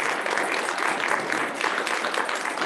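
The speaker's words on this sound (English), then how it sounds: "let's give the doctor another round of applause." An audience at a health presentation in a temple hall gives the doctor another round of applause, a brisk, even wash of many hands clapping close and continuous.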